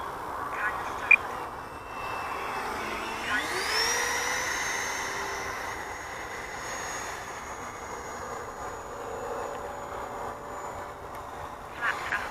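An FMS F-18 model jet on a slow speed pass with full flaps gives a faint, sustained electric jet whine whose pitch sweeps upward and then holds as it flies by at a distance, with soft outdoor background around it.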